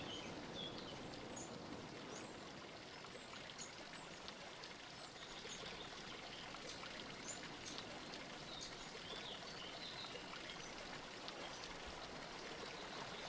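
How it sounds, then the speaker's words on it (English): A stream flows in a steady, unbroken babble of trickling water, with faint bird calls now and then in the background and no voices. "I enjoy how water flows, the sound it makes."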